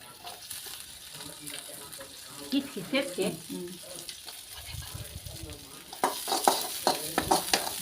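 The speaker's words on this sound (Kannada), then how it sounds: "ನಾವು ಇವಾಗ ಫ್ರೈ ಮಾಡ್ಕೊಳ್ಳೋಕ್ಕೋಸ್ಕರ ಫಸ್ಟು ನೀರುಳ್ಳಿನ ಹಾಕ್ಕೊತಾ ಇದ್ದೀವಿ." Chopped onions go into a hot pan to fry, with soft sizzling and stirring scrapes under quiet talk, turning brighter and louder in the final seconds as the frying intensifies.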